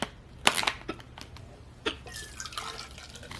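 A drink is poured into a cup in short, uneven bursts of splashing and dripping, close up and moderately loud against a quiet room.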